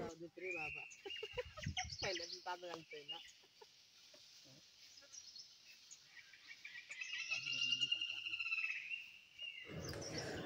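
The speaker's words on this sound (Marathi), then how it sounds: "मंडळी पक्ष्यांचा आवाज ऐका किती छान वाटतोय बघा." Birds call and chirp at a distance in a village rice paddy area during monsoon planting, including clucking fowl, with a voice talking near the start and a rising chorus of whistles later.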